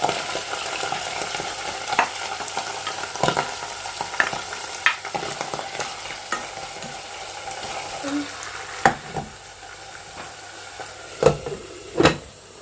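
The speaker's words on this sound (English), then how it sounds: "I'm gonna fry it now." Food frying in hot oil in a covered pot, a continuous soft sizzle with intermittent stirring scrapes and sharp clanks of utensils or lid, close and alone without talk.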